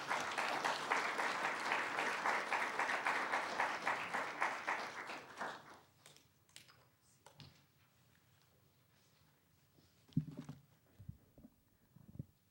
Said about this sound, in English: if you could give a warm round of applause for Lori Creed